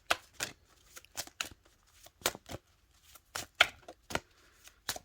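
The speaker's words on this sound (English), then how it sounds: "Let me pull another card." Tarot cards being shuffled and pulled, a series of crisp, separate riffling slaps and flicks at an irregular pace, close and alone in an otherwise quiet room.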